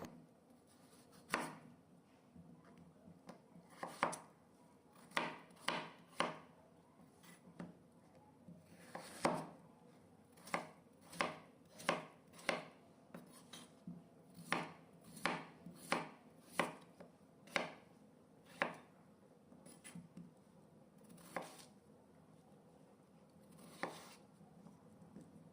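A knife finely chops fresh coriander on a board in a run of sharp, close taps that come in quick bursts and uneven pauses, with no one talking.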